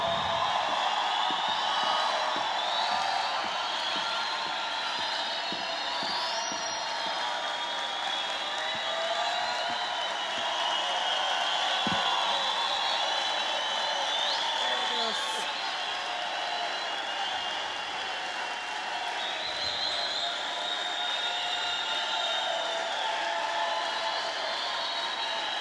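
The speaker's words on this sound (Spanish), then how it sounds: "demos muy fuerte aplauso a la pastora Verónica Gillet." An audience at a church gathering applauds a pastor with steady, sustained clapping that holds at an even level throughout, with crowd noise mixed in.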